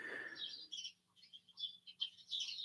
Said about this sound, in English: There's the birds, the sublime birds singing for us this morning